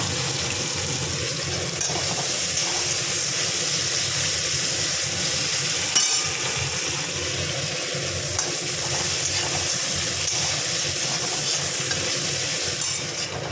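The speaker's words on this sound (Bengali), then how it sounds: "এই পেঁয়াজ টমেটোটা ভাজা হয়ে গেছে" Onion and tomato fry in a pan after cumin and chili tempering, giving a steady, moderately quiet sizzle and hiss with occasional stirring scrapes throughout.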